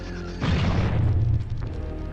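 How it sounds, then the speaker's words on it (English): A flashbang grenade goes off in the Nightmare Creatures video game as one dull, booming burst lasting about a second, then fades into the low game ambience. "It's a flashbang grenade!"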